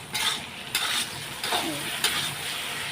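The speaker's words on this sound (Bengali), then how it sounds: "সব দিয়ে দিলাম দিয়ে এখন কষিয়ে নেব কিছুক্ষণ কষিয়ে নেব" Katla fish with spices sautés in a pan, a close, steady sizzle broken by quick scraping stirs.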